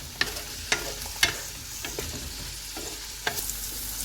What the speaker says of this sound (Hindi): थोड़ी देर तक मटरों को भून लेंगे।